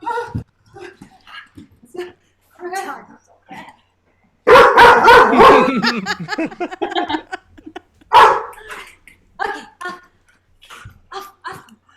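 A dog barks in a home during a live virtual game show, with a few sharp bursts of barking, the loudest around the middle, amid scattered voices talking.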